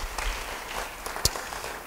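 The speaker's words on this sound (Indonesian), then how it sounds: "Yang setuju beri tepuk tangan bagi Tuhan." A church congregation claps together in a brief, faint burst of applause lasting under two seconds.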